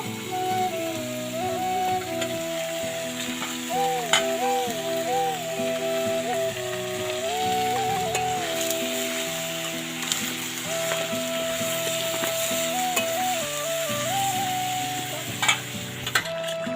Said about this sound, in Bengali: এঁচোড় চিংড়িটা ফুটেই এসছে